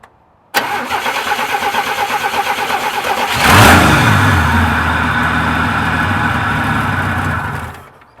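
A 1978 Chevy C10 pickup, sitting unused for 24 years, cranks over briefly, then catches and fires up loud and close. It flares in a rev before settling into a steady, rough running roar that cuts off near the end.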